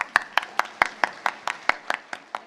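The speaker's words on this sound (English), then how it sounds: "Big clap for him." Audience members at the India AI Impact Buildathon clap for a student, about a dozen evenly spaced, fairly close claps in a steady rhythm, with faint voices in the background.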